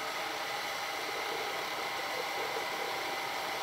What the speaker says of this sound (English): so that was the air purge doing that last little blow at the end of the brew